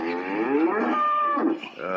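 A sick cow in pain lows loudly and close by, one long drawn-out, wavering moo that dips and rises again, with no talking over it.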